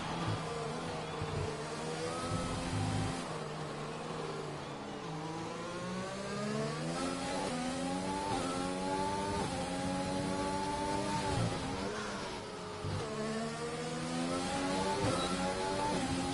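Several race cars drive through the Singapore GP circuit in a racing video game, engines whining and shifting pitch continuously as they accelerate and brake, a steady layered drone with no pauses.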